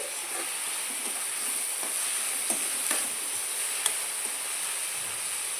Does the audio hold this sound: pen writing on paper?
no